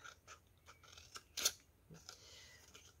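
Scissors snip through a folded piece of paper or card, a few short cuts with one sharper, louder snip. The sound is close and quiet.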